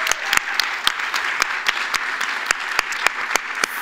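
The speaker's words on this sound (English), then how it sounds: "Hey, please applaud all of those winners." An audience at the Nordic Game Conference 2019 applauding award winners, with dense, steady clapping from many hands and a few sharper individual claps standing out, loud and close.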